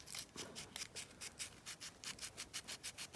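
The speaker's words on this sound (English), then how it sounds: "emery cloth, just rub them away" Casting marks on a Dinky Toys No. 723 die-cast HS125 jet model being rubbed away with 400-grit emery cloth: quiet, close, rhythmic back-and-forth scraping strokes repeating steadily.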